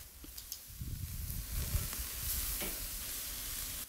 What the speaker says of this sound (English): So now we're going to place the skewers on a hot charcoal grill.